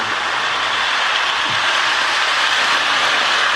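A continuous, steady rumbling whir of a K-Line New Haven Alco model train locomotive running along its track, close and fairly loud, with no talking.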